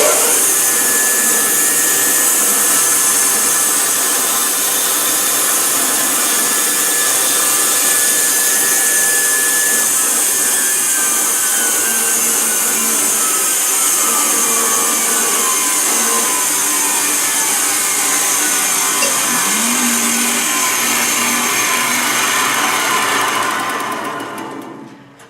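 A saw blade cuts through a wooden lidded-box blank, giving a loud, steady high whine that runs unbroken for most of the stretch and then winds down and stops at the end.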